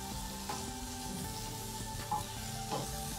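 Capsicum stir-fried in a pan for fried rice, a soft steady sizzle broken by a few scraping stirs of the utensil, faint and close, with no talk.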